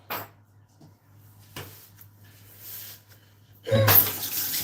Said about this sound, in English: Got to wash my hands.